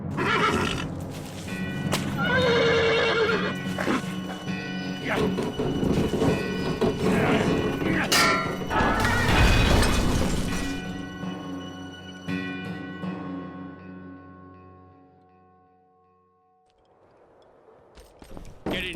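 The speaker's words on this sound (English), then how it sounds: "Strong horse will pull them free." A horse neighs and strains against rusty iron bars in the Call of Juarez game, with hooves clattering, metal creaking and grinding, then the sound fades away before a faint rise at the end.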